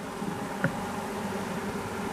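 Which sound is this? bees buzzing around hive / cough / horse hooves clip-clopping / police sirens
bees buzzing around hive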